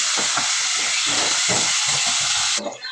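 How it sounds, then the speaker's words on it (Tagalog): Garlic and other ingredients toasting in a hot pan before minced pork goes in, a loud, close, steady sizzling hiss with bursts of crackle that drops off suddenly near the end. "Medyo tustahin natin muna itong mga ingredients bago natin ilagay yung meat."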